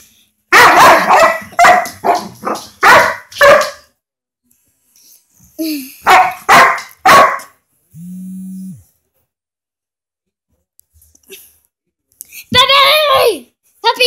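A small dog yaps close by in quick, high bursts, pausing between volleys and then barking again near the end.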